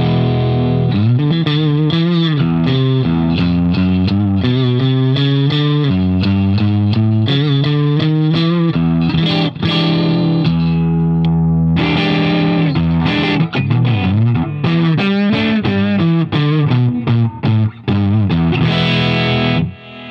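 Sterling Axis electric guitar set to the in-between pickup position, played as a continuous run of distorted notes and chords with a chorus-like shimmer, loud and steady throughout with no talking.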